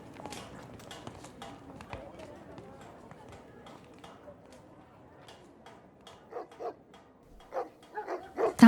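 A huge, bear-like hound with large teeth appears in a flintlock fantasy audio drama. Its louder bursts of barking or growling come in toward the end, alongside voices and thudding footfalls in a busy outdoor scene.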